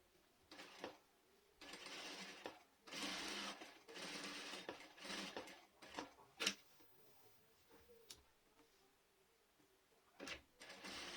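A sewing machine stitches a small phone bag in short bursts of rapid mechanical whirring, each separated by pauses and a few clicks, heard up close with no talking.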